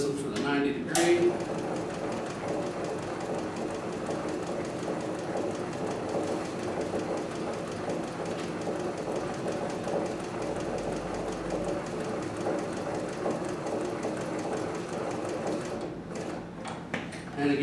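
Leather sewing machine stitches a box pattern around a piece of leather, the workpiece turned at 90-degree corners, with a steady continuous mechanical run at moderate level.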